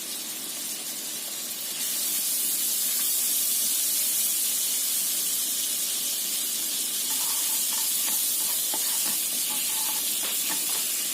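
Steady hissing sizzle of a spoonful of margarine heating in a pan, a continuous bright crackle that swells after the first couple of seconds and keeps going.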